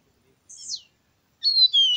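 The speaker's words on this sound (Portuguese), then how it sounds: "É muito amostrado mesmo esse passarinho." A caboclinho seedeater sings alone in two bright, high whistled phrases: first a short slurred note, then after a pause a longer, clear warbling phrase that falls slightly in pitch.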